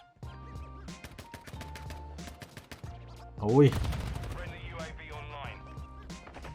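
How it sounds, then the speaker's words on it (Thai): Rapid bursts of Call of Duty: Warzone Mobile gunfire crack over a sharp explosion-like blast, while a man cries out in pain amid the fighting. "มีเสียงต่อสู้กันวะ"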